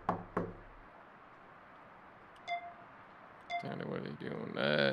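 A few sharp knocks land on a door close by, followed by faint beeps and rising background noise, and voices can be heard.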